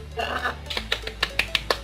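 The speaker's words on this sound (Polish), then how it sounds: "To było jakby coś klaskania." A quick run of sharp, clapping-like cracks, about six evenly spaced snaps, follows a brief blur of noise; close and fairly loud.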